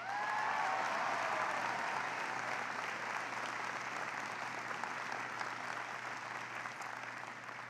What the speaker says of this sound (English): can everybody give a huge round of applause for Tina Long for the great introduction of Harry Reid?